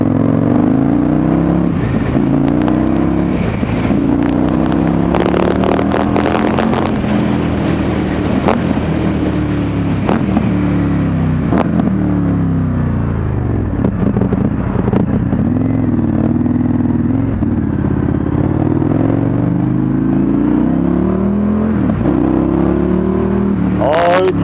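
An Indian FTR1200 motorcycle's big twin engine drones loud and close while being ridden, its pitch rising and falling through repeated throttle surges and gear changes, with wind rushing over it throughout.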